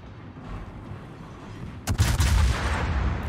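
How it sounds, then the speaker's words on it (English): Yamato battleship main guns firing in World of Warships, a sudden heavy boom about halfway through followed by a rolling, rumbling roar over low ambient noise. "Yamato did fire on me, but those shells should miss."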